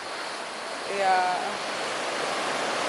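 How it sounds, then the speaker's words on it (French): Sea waves break on a beach in a rocky cove, a broad continuous wash of surf that swells briefly midway, with a voice speaking softly under it. "je sais pas si on m'entend avec les vagues"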